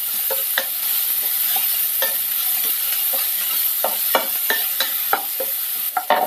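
Onion fries in a pan for kovakka curry under a steady soft sizzle, with a spoon scraping and stirring in irregular clicks, close up and with no talking.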